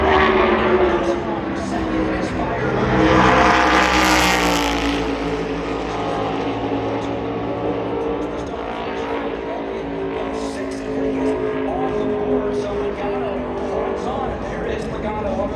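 Stock cars at Phoenix Raceway during NASCAR qualifying, a continuous engine roar that swells as a car passes near the middle and then holds steady, with a commentator talking over it throughout.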